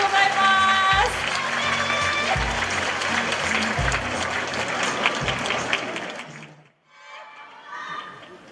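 A crowd of fans applauds at a fan meeting in Tokyo, a steady loud wash of clapping with music and voices mixed in, which cuts off abruptly near the end before a softer burst returns.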